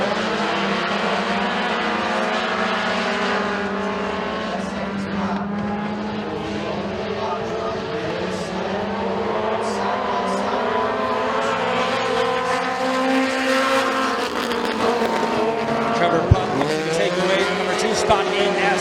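Race cars roar down the back straightaway at McKean County Raceway during a heat race, a dense, continuous engine drone with shifting pitches, under an announcer's commentary.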